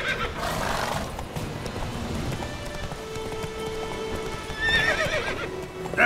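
Geralt's horse Roach in The Witcher 3 gallops with steady clip-clop hoofbeats and lets out clear neighs and whinnies, close and fairly loud against an ambient game soundscape.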